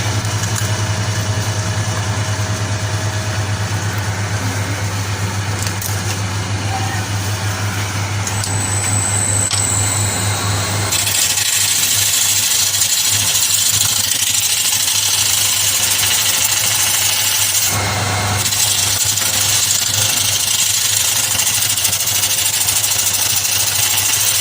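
A wood lathe spins a large river bowl while cardboard is pressed against its rim, giving a loud, steady motor hum with a broadband whir that shifts in tone partway through and stays unbroken throughout.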